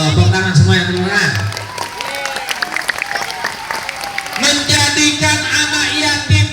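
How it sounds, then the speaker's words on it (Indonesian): An audience at a Maulid Nabi gathering breaks into sustained applause, a dense wash of clapping from a crowd that swells again toward the end, with a voice talking over it. "Masya Allah, tepuk tangan semua yang terima"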